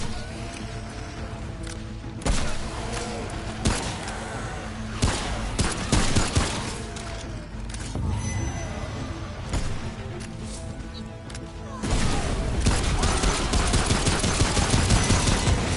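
Dense, sustained gunfire in the video game Remnant: rapid overlapping shots and bursts hammer nonstop, loud and close, with a heavier surge of firing near the end.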